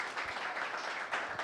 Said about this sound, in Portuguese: Uma salva de palmas, é morador.